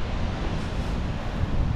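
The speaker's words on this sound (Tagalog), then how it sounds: "dahil sa lakas din ng hangin hindi mo masyadong maano yung ulan" Strong wind with rain roars by the sea in Kuwait, buffeting the microphone as a dense, continuous rush of noise with no voices.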